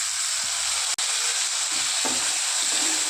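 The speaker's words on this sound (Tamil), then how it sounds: "நல்லா வதங்கிடுச்சுங்க." Food sautés in a pan on the stove with a bright, constant sizzle and hiss, broken by a single sharp clink and a few soft stirring scrapes, close and steady with no talking.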